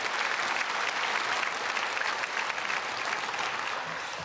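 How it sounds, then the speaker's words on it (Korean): Church congregation at a Sunday worship service applauding to welcome newly registered members, a broad sustained wash of many hands clapping, even and somewhat distant, easing slightly near the end. "크게 박수로 환영하겠습니다."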